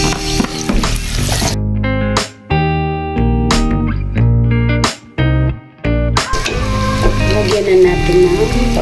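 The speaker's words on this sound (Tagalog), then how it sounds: "Mainit na, kaya lagyan natin yung bawang. Diba? Sunod itong luya. Sama natin yung sibuyas." Garlic, ginger and onion sizzle and fry in hot oil, a loud, steady crackle that dips briefly as each ingredient goes into the pan, with music playing over it.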